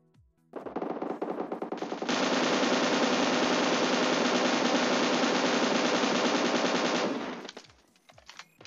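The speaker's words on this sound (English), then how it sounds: "The next weapon we are going to try is M249." An M249 machine gun from the PUBG Mobile video game fires a long, sustained automatic burst of about seven seconds, loud and dense, which starts lighter, thickens into a continuous roar and then trails off into a few scattered shots.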